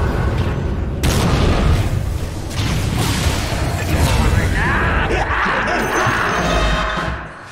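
Booming impacts and crashing hits from a tower under attack in Dota 2, a steady dense barrage of explosive thuds lasting several seconds, loud and continuous with a brief dip near the start.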